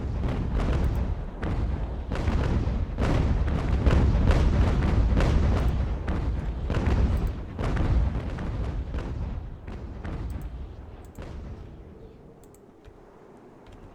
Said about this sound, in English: I think Ranger really put a hurt on Britain with one broadside.